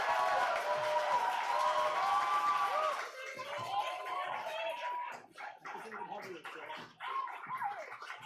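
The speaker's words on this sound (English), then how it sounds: "have a massive round of applause for the best editor in the world, Jade Holroyd." An audience at a student media awards ceremony claps in sustained, dense applause with crowd noise, mixed with tonal sound and voices, continuing for around eight seconds.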